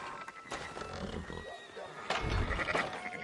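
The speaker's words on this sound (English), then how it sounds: "Fine sheep." Sheep bleat in a Red Dead Redemption 2 farm scene, with a couple of wavering animal calls rising over game ambience and low background noise, a stronger bleat near the end.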